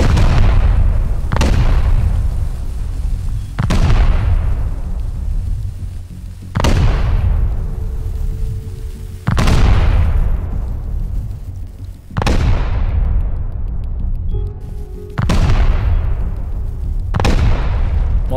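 Loud satchel charges detonating against a bunker wall in a survival game, a series of about seven heavy booms spaced a few seconds apart, each followed by a long rumbling decay.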